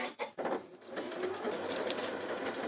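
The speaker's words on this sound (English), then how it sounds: "And we're going to stitch again." A Janome Atelier 9 sewing machine stitches at a steady, rapid mechanical whir after a couple of short starting clicks, close and continuous with no talking.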